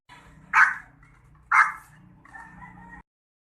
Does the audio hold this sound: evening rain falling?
no